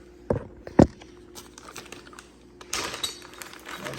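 Mounting hardware for a leather-wrapped motorcycle trunk pulled from a Ziploc plastic bag, two sharp crinkles early on, then a longer rustle of plastic and small parts, close and quiet.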